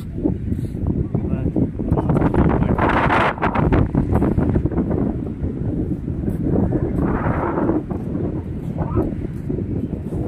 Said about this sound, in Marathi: कसं छान हवा आहे, खूपच छान हवा आहे